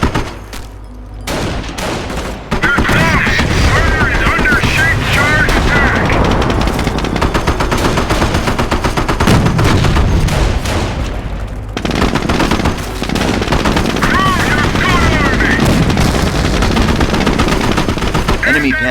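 Dense machine-gun fire and explosions from a Company of Heroes World War II battle, with Sherman tanks under shaped-charge attack from Panzerschreck troops; loud, continuous bursts and booms that drop off briefly near the middle, with faint voices underneath.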